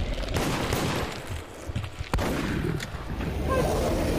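Gunfire in the multiplayer video game Deceit, bursts of dense shots packed close together across the clip, with a sharp louder crack near the middle, over a busy game mix.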